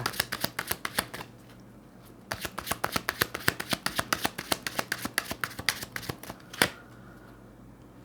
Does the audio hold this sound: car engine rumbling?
no